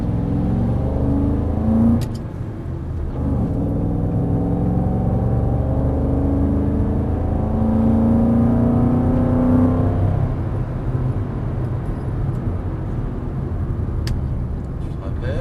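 A car accelerates hard while drifting, its engine droning and rising in pitch through sustained revving and whine, loud and close, with a brief drop and later a steadier run.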